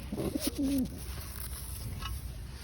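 A pigeon coos close by, a short soft run of low throaty notes over a steady ambient hiss, followed by quieter background sounds with no speech.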